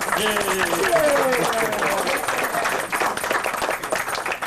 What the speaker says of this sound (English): So I think that deserves a little round of applause here.